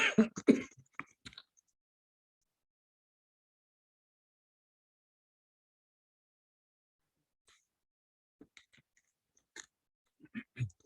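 A brief throat clearing with a rough cough at the start, followed by silence and a few faint sounds and a short voice near the end.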